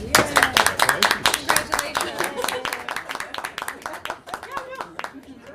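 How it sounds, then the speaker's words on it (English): Hands clap in quick, distinct bursts at a school district board of education meeting, loud and close, with talking mixed in throughout. "Should we clap?"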